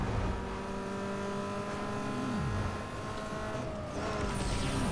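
A modified Mazda Miata in NFS Underground 2 accelerates with a loud, steady engine drone whose pitch climbs, dips sharply at a gear change, then builds again.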